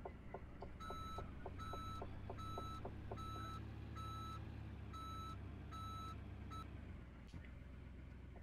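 Rhythmic electronic reversing beeps from a truck backing a rescue trailer in a video game, steady and loud over a low engine rumble, then stopping near the end.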